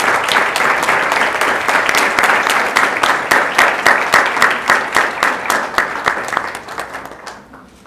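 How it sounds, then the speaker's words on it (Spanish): Loud, dense audience applause at a Costa Rican journalists' day award ceremony, sustained steady clapping that gradually thins and fades toward the end. "Damos un fuerte aplauso"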